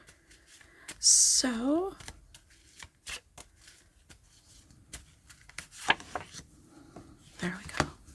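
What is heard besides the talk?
shuffling cards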